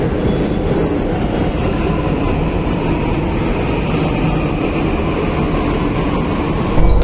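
Dubai metro train running with a loud, continuous rumble and rail hum, steady throughout and close by, ending in a brief thump, with no talking.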